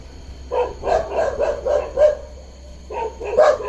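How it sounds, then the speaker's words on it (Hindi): Two bursts of dog barking toward a leopard near a jungle resort in Rajaji National Park, several sharp barks each with a short pause between, moderately loud and close. "एक कुत्ता इधर भी भौंक रहा है,"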